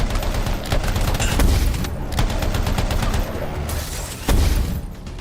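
Enemy gunfire in the video game Anthem: dense, continuous volleys of shots with sharp louder bursts, loud and close throughout, with no talking.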